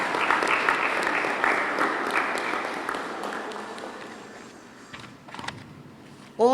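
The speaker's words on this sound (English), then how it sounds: "So give them a round of applause." An audience applauds at a cerebral palsy society gathering, the dense clapping loud at first and fading over several seconds before a few scattered claps and a brief noise at the end.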